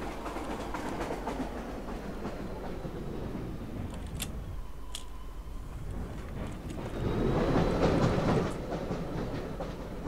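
Train rolling along in Garry's Mod, a steady loud rumble with rhythmic clatter that swells briefly near the end, with a couple of faint high squeals and no talk.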